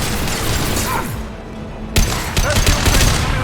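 Loud heavy weapon gunfire rattles through a Mass Effect 2 battle, dense bursts that ease briefly, then return as a sharp volley of shots and impacts.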